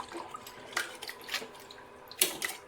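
Tap water splashes in short intermittent bursts while raw mutton pieces are washed in a home kitchen, heard close and fairly quiet.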